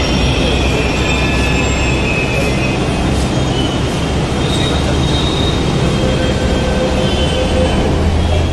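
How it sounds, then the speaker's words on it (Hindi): A crowded Delhi metro train rumbles loudly and continuously with faint squealing from the wheels and a dense, noisy carriage hum throughout. "ये उनकी मेट्रो, चलते हैं मेट्रो के अंदर।"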